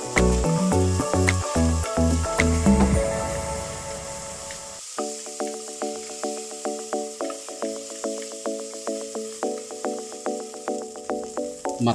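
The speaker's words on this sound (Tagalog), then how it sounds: "Ilalagay na rin natin ang ating kamatis at igigisa lang natin ito hanggang ito ay lumambot." Chopped tomatoes sautéing in a pan, a loud close hiss and sizzle at first, then a quieter steady fry with regular clicking and tapping pulses.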